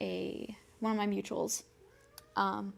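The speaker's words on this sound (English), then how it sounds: "If you hear the cat in the background, I apologize." A house cat meows in the background of an indoor room, a few close, fairly loud calls between and over bits of a person's talking.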